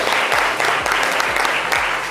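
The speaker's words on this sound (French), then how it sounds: "Applaudissements pour tous les enfants, s'il vous plaît." Loud, dense audience applause for children at a live broadcast event, a continuous roar of clapping over a low rhythmic music beat, filling the whole moment without speech.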